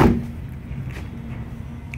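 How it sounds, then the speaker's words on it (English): Door locks on a 2018-2019 Toyota Tundra with a plug-and-play remote start unlock with a sharp thunk at the start, followed by low mechanical rumble and faint clicks, close by. "You'll hear the door unlock, so it's unlocked right now."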